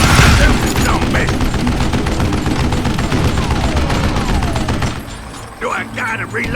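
Rapid, loud gunfire bursts rattle through a Call of Juarez firefight, dense volleys and booms filling most of the stretch before easing, with a voice speaking near the end.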